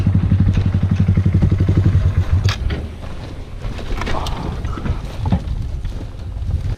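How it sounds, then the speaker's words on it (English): A motorcycle at high speed on a sharp turn, its loud engine drone fading as the rider loses control and the bike skids and clatters, followed by scraping and rustling noise close to the microphone with wind buffeting. "the biker was riding at a high speed and at a sharp turn, he lost control, and finally, the bike skidded"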